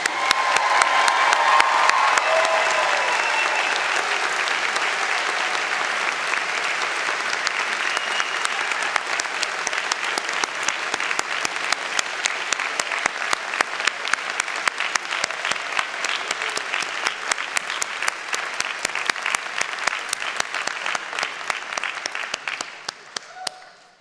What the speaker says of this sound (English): please join me in a round of applause acknowledging our graduating class of 2016